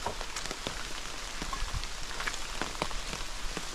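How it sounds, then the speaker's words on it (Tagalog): Rain falls steadily in a forest on a mountain trail in Palawan, a dense patter of drops with scattered louder close hits on nearby surfaces. "Grabe, ulan ng ulan."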